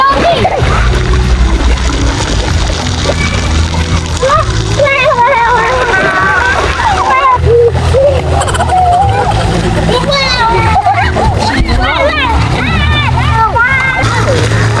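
Water splashing and sloshing as someone swims at a birthday celebration, a steady loud wash of splashes throughout, with children and adults talking and calling out over it.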